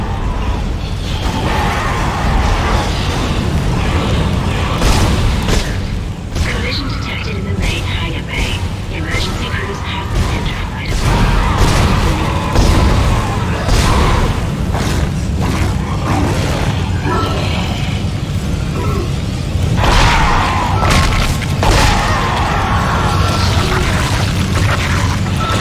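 Explosions and crashing blasts from the survival horror video game Dead Space, loud booms and cracks recurring throughout with echoing impacts, under frequent excited talk from players.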